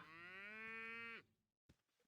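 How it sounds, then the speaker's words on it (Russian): A cow in the video game Icewind Dale gives one long, clear moo that cuts off abruptly, followed by a brief quiet gap and a small faint thump. "у Освальда здесь коровы, над которыми он проводит опыты. Мычат."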